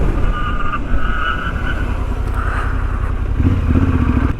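Yamaha Ténéré 700 motorcycle braking hard from 100 on a street, with loud continuous engine and road rumble close by that shifts in tone as the bike slows.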